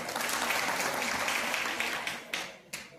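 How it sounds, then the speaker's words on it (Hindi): An audience breaks into loud applause for Sanjeev, a dense wash of clapping that holds steady before tapering off with a few scattered claps at the end. "एक बार संजीव सर के लिए जोरदार तालियां।"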